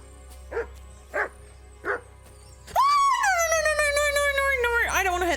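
A dog in the game Kingdom Come: Deliverance II gives three sharp, evenly spaced barks, then breaks into a loud, drawn-out whining yelp close by.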